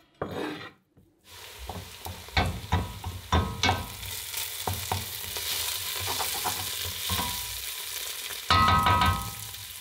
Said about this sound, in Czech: Takže cibuli dále restuji a jdu zase na maso.